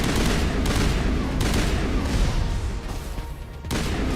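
Dense, loud gunfire with chemical rounds in the video game Mass Effect, rapid overlapping shots and bursts filling the whole stretch with brief dips between volleys.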